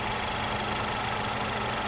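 A 2023 Honda Accord EX's 1.5-liter turbocharged four-cylinder idles under an open hood, a steady, close, even hum with a faint mechanical tick and no voices.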